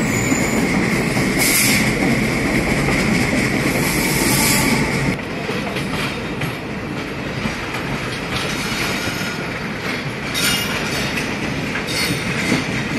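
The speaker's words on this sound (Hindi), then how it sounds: "Indian railway train power," Indian Railways passenger train passing close by on the Bathinda line, a loud continuous roar of wheels on rails with clickety-clack and squealing that eases slightly partway through.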